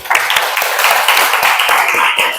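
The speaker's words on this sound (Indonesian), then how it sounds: "Oke, tepuk tangan." A class of students claps their hands in a classroom, a close, dense burst of many overlapping claps holding steady for a couple of seconds.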